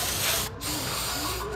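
A spray bottle mists medicine onto a chicken with mange in a long, loud, close hiss, briefly broken once and then carrying on steadily, with no talking.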